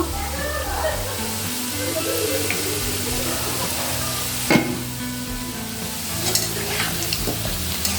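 Chicken biryani with potatoes turned in a pot over a medium flame, a steady loud sizzle with wet stirring and one sharp spoon knock midway.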